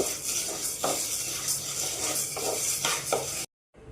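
Washed and dried grains roasting in a pan for homemade baby food powder, with a steady dry sizzle and soft scraping stirs near and fairly faint, ending abruptly.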